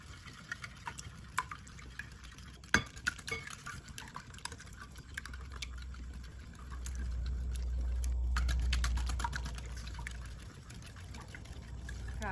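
Coconut milk and egg custard mixture with pumpkin is stirred in a bowl, giving soft liquid sloshing, trickles and drips. Scattered sharp clinks of the utensil are heard, close and fairly quiet, with a gentle swell of swirling liquid midway.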